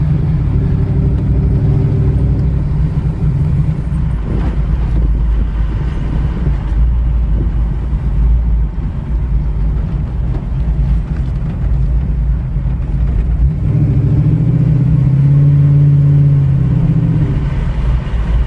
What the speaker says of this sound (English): So let's go for a ride. Love the sound of this car.